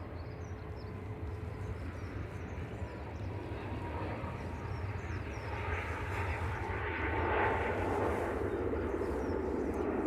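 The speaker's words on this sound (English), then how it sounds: "TUI's Tom B departing now on Max 8 with flight 2620 to the Benidorm" TUI Boeing 737 Max 8 departing Manchester Airport, a distant broad jet engine roar that swells gradually and grows louder toward the end, with faint background noise and no clear voices.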